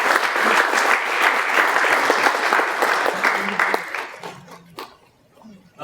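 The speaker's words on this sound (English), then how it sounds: "Let's give them a round of applause." Indoor audience applause at a mentorship program event: a dense, loud burst of many hands clapping that holds steady for several seconds, then thins out and fades to near quiet.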